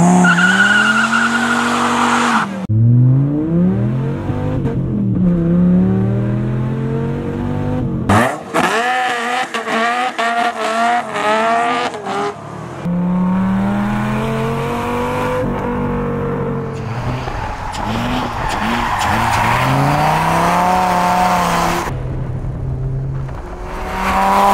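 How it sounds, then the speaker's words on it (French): A Dodge Viper RT/10 sports car revs hard and accelerates, with repeated tire squeals and skids between loud engine passes, close and continuous for much of the stretch. "la Dodge Viper RT10"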